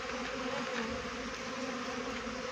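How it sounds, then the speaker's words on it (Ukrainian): A dense, continuous buzzing drone of many honeybees flying close around a hive being prepared for winter, steady in loudness throughout. "Бджоли дуже багато на обльоті."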